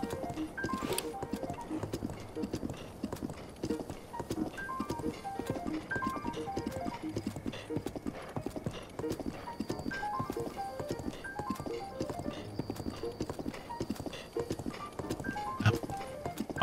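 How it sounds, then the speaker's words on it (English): Horse galloping in Zelda: Breath of the Wild, a steady clip-clop of hooves with an occasional whinny over game music and ambience, continuous and fairly close throughout. "Go, Turbo Horse."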